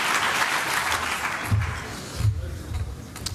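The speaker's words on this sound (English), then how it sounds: "Huge round of applause for all of the Lightning Talk presenters." Dense audience applause for lightning talk presenters at a hacker conference, loud and sustained at first, then thinning and fading with a few thumps and scattered claps toward the end.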